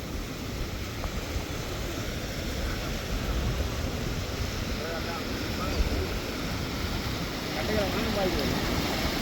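A steady, dense rush of fast-flowing rain floodwater roars continuously in Jaffna, broad and noisy, with no break across the whole stretch.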